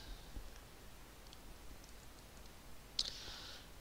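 A computer mouse gives quiet, sparse clicks, with one sharper click near the end, against a faint steady background hiss.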